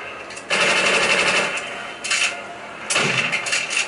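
Rapid automatic gunfire from the Call of Duty: World at War zombies mode plays in three loud, dense bursts separated by short pauses.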